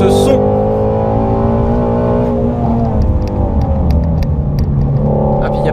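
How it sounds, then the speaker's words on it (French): A Ford Mustang Shelby GT350R V8 engine rumbles and revs loudly and close on a race track, its deep tone rising and falling steadily, with faint clicks and ticks on top. "ce qui est vraiment extraordinaire, c'est ce moteur, ce V8."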